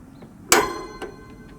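Otto Wilde O.F.B. gas grill burner lighting on high flame: a single sharp metallic click-whoosh, loud and close, followed by a fainter second click and a few soft ticks, with no talking.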